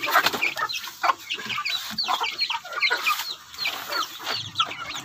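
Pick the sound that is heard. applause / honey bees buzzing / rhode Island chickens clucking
rhode Island chickens clucking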